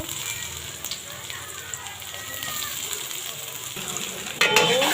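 Garlic paste and chopped garlic hit hot mustard oil in a frying pan for a pabda fish curry, giving a steady close sizzle and crackle that swells into a louder burst near the end.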